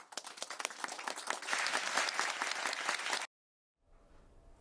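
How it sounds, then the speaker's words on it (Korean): Applause rings out in the South Korean presidential office in Yongsan, a sustained burst of many hands clapping that builds, holds for about three seconds, then cuts off abruptly into quiet room tone. "용산 대통령실에서도 박수가 흘러나왔습니다."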